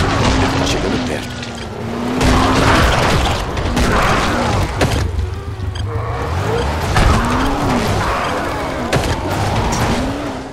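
Car in Dying Light: The Following, its engine drone rising and falling while tires squeal through skids and thuds hit the body. Someone talks over it throughout.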